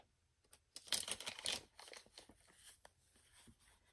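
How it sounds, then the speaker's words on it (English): Plastic bag crinkling and rustling as a newly built temperature sensor is slipped inside, a burst of close crackles followed by softer intermittent rustles, quiet and without speech. "put it in a plastic bag"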